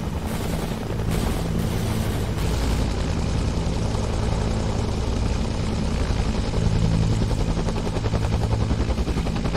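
Continuous rotor and engine drone of a helicopter in the video game ARMA 3, loud and steady throughout, with sharp bursts near the start that could be gunfire.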